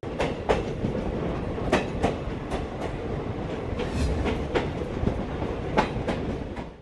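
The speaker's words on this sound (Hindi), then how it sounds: "ये वो रेलवे स्टेशन है जहाँ पर पश्चिम रेलवे की अधिकतम ट्रेनें चलती हैं" A train at Bandra Terminus railway station on the Western Railway rolls past with a steady rumble and a rhythmic clickety-clack of wheels over rail joints. It is loud and close, with no voices.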